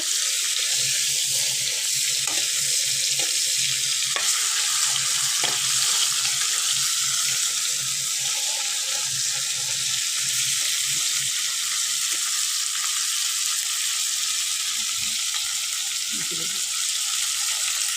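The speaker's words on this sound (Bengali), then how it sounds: "আমি চিংড়ি মাছগুলোকে বেশি কড়া করে ভাজবো না, হালকা ভেজে নেব।" Golda prawns fry lightly in hot oil in a pan, giving a steady, bright sizzle throughout with occasional soft clinks and stirring knocks underneath.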